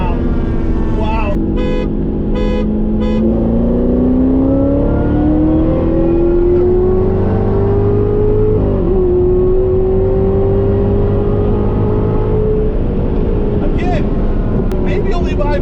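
Corvette C8 Z06 and C7 ZR1 accelerating hard side by side: a loud, steadily climbing engine drone with a quick dual-clutch shift dip partway through, then the pitch rising again, with voices talking over it throughout.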